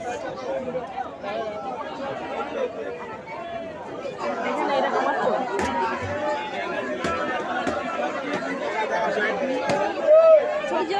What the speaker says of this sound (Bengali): আর প্রচুর ভিড়